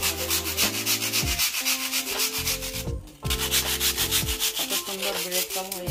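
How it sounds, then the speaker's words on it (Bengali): Toast biscuits are crushed into breadcrumbs in a home kitchen, making a dense, steady grinding rasp that breaks off briefly near the middle before resuming. "এখানে টোস্ট বিস্কুট দিয়ে আমি ব্রেড কাম বানিয়ে নেবো ঘরের মধ্যে"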